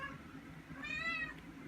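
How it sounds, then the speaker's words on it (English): A house cat lets out a single faint meow in the background during a basketball card unboxing, heard alone against a low room hum. "That's my cat."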